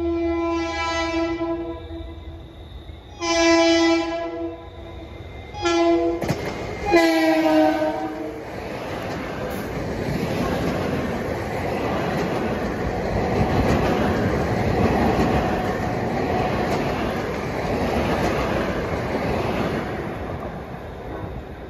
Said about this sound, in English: 656 is coming from Long Island City to Port Jeff with DE30AC 413 with a K5 LLA horn.